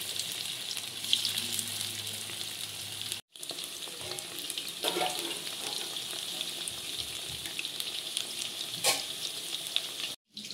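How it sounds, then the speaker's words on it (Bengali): Chili chicken pieces fry in hot oil with a continuous bright sizzle and occasional stirring scrapes, broken by two brief drops to near silence. "এই তেলের মধ্যে চিলি চিকেনগুলো দিয়েছি, ফ্রাই করে নেব ভালো করে।"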